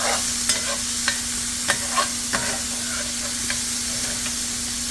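Beef for Swiss steak sizzles steadily in a pan while a utensil stirs and scrapes the bottom, sharp scraping clicks recurring every half second or so over a constant frying hiss, close by and without speech.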